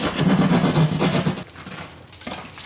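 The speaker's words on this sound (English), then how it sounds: "Take a drywall saw and you're just going to cut out on your scored line." A drywall saw rasps through drywall along a scored line, with rapid back-and-forth strokes for about a second and a half, a pause, then a few softer strokes.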